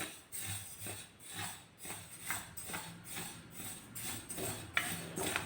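Sesame seeds roasting in a little oil in a pan over a low flame, stirred with a rhythmic back-and-forth scraping at about two strokes per second, soft and close.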